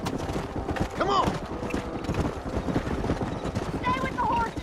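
Horses' hooves clip-clopping in Red Dead Redemption on a canyon ride, a rapid, irregular clatter close by under ongoing talk, with brief whinnies and other game sounds layered on top.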